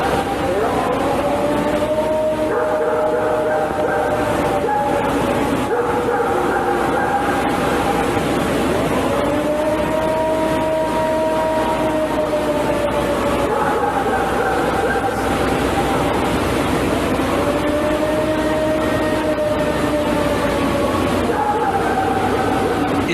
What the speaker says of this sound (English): This is the Ohio howl.